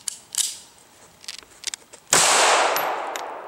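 A DiamondBack 380 pistol, just back from factory repair and loaded with a 950 feet-per-second round, fires one loud close shot with a long ringing decay after a few faint mechanical clicks.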